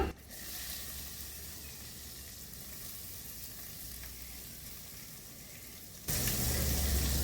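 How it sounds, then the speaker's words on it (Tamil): Cloves, cinnamon and cardamom spluttering in hot oil, a steady hissing fry that holds evenly and then swells noticeably louder near the end, heard up close with nobody speaking. "ஏலக்காய் எல்லாத்தையும் இதில் போட்டுக்கலாங்கம்மா. இது பொரிஞ்ச உடனே நம்ம வெங்காயம் போடுவோம்மா."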